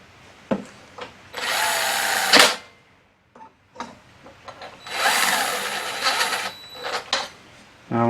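A power tool runs in two bursts of a few seconds each, tightening rocker arm bolts on a lawnmower engine during a head gasket replacement, with light clicks and handling noises between the bursts.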